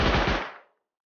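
A short burst of machine gun fire in Rust, a rapid rattle of shots lasting under half a second that then trails off into silence.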